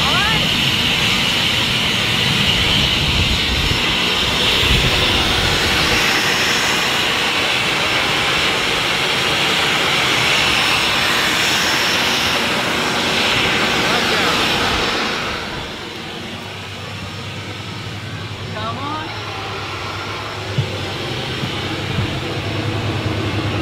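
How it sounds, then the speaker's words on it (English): Steady loud broadband roar of a small private jet in flight, constant cabin and engine noise that drops slightly partway through, with a low hum beneath and voices faintly in the cabin. "we're flying to Switzerland in a beautiful little private jet"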